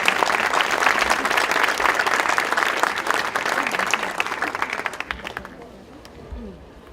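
A conference audience at a Latin American ethics and social commitment event gives loud, dense applause for a speaker. It holds steady for about five seconds, then tapers off into scattered claps and faint room murmur.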